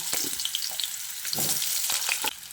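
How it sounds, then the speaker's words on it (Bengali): Potatoes drop into hot mustard oil in a kadai and fry with a bright, steady sizzle and crackle, dotted with a few soft stirring knocks, close by and without any voices. "এবার আমি গরম তেলে কয়েকটা আলু দিয়ে দিচ্ছি।"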